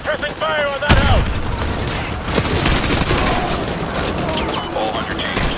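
Sustained suppressing gunfire in a military video game, rapid automatic bursts and booms rolling continuously at close range, with shouted squad orders and radio voices talking over the shooting.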